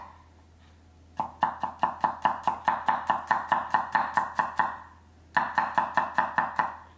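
A kitchen knife chops garlic cloves on a cutting board, slicing them into a fine grid. After a quiet pause come two close runs of sharp, rapid, even strikes, about four per second, with a short gap between the runs.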